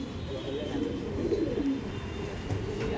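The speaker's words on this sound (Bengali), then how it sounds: "ইয়েলো পট্টি বা কাঁচা হলুদ চোখের পায়রা আছে।" Madras pigeons in a loft give soft, rolling coos, several close by and overlapping continuously, with faint voices in the background.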